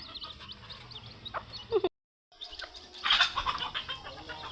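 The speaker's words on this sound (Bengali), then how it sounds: "মাশাআল্লাহ, কি অত বড় ব্রয়লার" Broiler chickens on a farm, cluttered clucking and scratching with a brief wing flutter, close and moderately quiet, with a short gap of silence midway and faint voices around.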